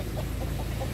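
Free-range village chickens cluck in a brief, continuous burst, the soft repeated clucks sitting amid steady outdoor background noise.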